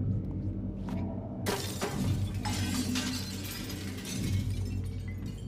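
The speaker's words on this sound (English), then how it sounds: "stepping on glass like every kid should." Glass shattering underfoot in the video game Little Nightmares: a sharp, loud crunch of breaking glass bursts in and scatters into sustained crackling debris, heard alone without talk.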